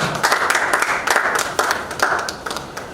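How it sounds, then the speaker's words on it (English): A small group at a panel event claps irregularly for a few seconds, with scattered sharp hand claps close by. "A round of applause for her once again, please."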